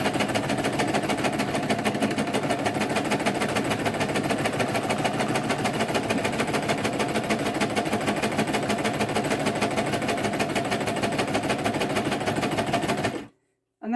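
A sewing machine stitching fabric runs continuously at a fast, even rhythm, its rapid mechanical clatter close and loud, stopping abruptly near the end.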